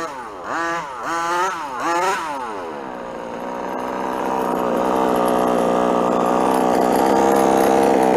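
A 30.5cc gas engine in a 5th scale Associated RC truggy revs in a few sharp blips, then settles into a loud, steady, buzzing idle that slowly climbs, close to the microphone.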